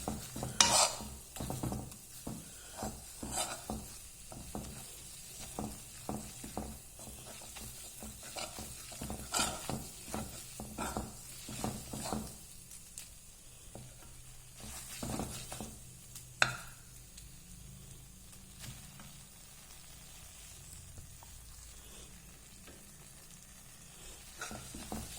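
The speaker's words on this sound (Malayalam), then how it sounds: "ഇത്തിരി ഒരു സ്പൂണ് മൈദ ഇട്ടിട്ട് റോസ്റ്റ് ചെയ്യണം" A spoonful of maida flour roasting in a pan, with soft scraping stirs and light crackles in irregular bursts, quieter toward the end.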